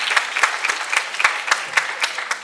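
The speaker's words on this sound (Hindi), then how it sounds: "जोरदार तालियां बजा के बच्चों का हौसला अफजा बढ़ाइए जरा" Audience applause at a school Bait Baazi event: a short burst of dense, steady clapping from a modest crowd, close and lively, with no talking over it.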